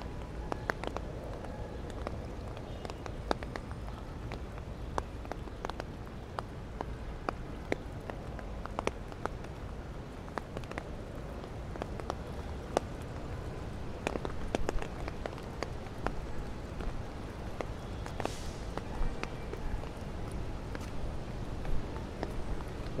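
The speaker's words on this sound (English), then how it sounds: "One thing about the rain is many people are afraid to go out in the rain because they don't want to get wet" Rain falling on a New York City street near Times Square and Central Park, a steady dense patter of drops on pavement over a low city rumble, with scattered sharper ticks and occasional footsteps.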